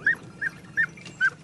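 Hunting dogs on a big-game drive chase red deer hinds. Four evenly spaced, high yelping cries sound from a short distance against a quiet outdoor background with no talk.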